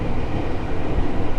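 An air-conditioned commuter train carriage in Indonesia rumbles steadily from inside as it pulls away from Manggarai station, with a continuous low roar of wheels and motors and no talk.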